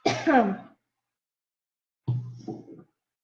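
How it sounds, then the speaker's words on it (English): Two separate coughs from one person, a sharp one at the start and a softer, rougher one after a pause, with silence between. "And I also have a cough."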